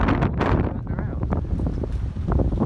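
Strong wind buffets the microphone while sailing a Colvic 26 boat on a windy day along the Cornish coast, heavy gusty rumbles rising and falling.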